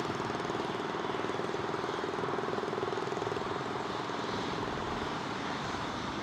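A passing airliner at Toronto Pearson airport produces a steady, moderately loud engine roar with a droning hum, heard from some distance and holding evenly throughout.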